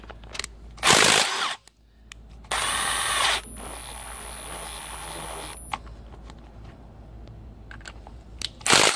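A socket wrench loosens injector bolts on a Volvo D13 engine, with two short loud bursts of ratcheting and crunching over a quiet shop background, then scattered faint clicks.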